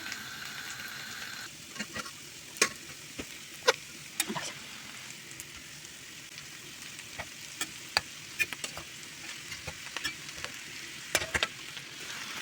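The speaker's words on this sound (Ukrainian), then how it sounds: "зараз я її висипаю на сковорідку у нашу цибулю" Liver and onions sizzle and pop in a frying pan, with scattered crackles and scraping stirs over a steady hiss; no talking.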